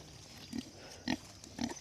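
Pigs on a farm give three short, low grunts with snuffling between them, close and fairly quiet in an evening pasture.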